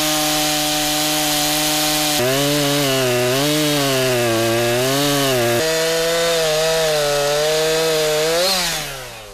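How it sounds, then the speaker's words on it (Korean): A chainsaw at a logging site bucks felled logs over 20 m long into set lengths, the engine pitch dipping and rising under load across several cuts before easing off at the end. "잘린 원목들을 토막내는 절통 작업이다."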